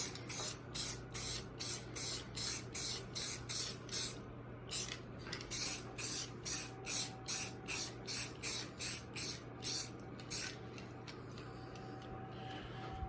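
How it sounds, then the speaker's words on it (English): Short bursts from a spray gun lay down a light first coat on 1984 Corvette parts, roughly twenty evenly spaced hisses over ten seconds, close and loud, with a steady heater hum underneath and no talking. "So I'll just give them the first coat to match the rest."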